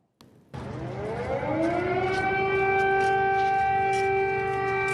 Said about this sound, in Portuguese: As sirenes ainda são rotina aqui em Kiev.